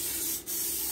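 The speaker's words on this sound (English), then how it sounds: "I'm gonna spray them with some olive oil" Olive oil spray misted onto Brussels sprouts in a kitchen, a steady close hiss lasting about a second with a brief dip midway, with no voices.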